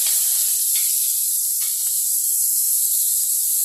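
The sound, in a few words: mustard seeds and fenugreek sautéing in pan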